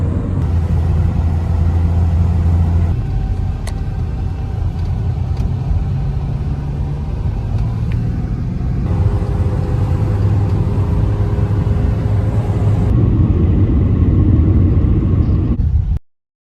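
Steady rumble of a car cruising on a road trip to Lake Louise, Alaska, a continuous loud engine and tyre drone from inside the vehicle with no talk.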